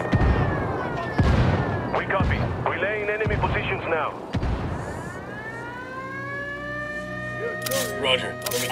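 Artillery strike explosions in the military shooter game Ghost Recon Wildlands: deep booming blasts and rumbling impacts, with whistling, sweeping tones and radio voices talking over the barrage.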